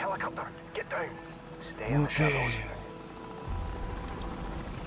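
A helicopter flies overhead in Call of Duty 4's Ghost Town sniper mission. Its steady rotor drone rumbles under a player's talk and game sounds, swelling around the middle of the clip.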